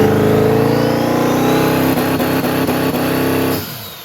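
A turbocharged car engine running about 5 psi of boost revs hard and steadily on a dyno brake, loud and close, then drops off sharply near the end.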